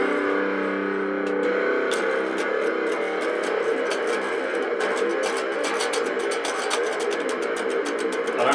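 Harsh, heavily distorted guitar drones loudly and continuously, smeared with a hissing wash of noise and scattered crackling pops.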